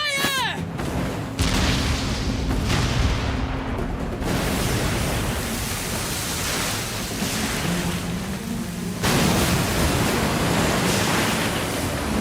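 Heavy ship cannons in Like a Dragon: Pirate Yakuza go off in several loud, booming blasts at sea. Crashing waves and wind roar continuously between the shots.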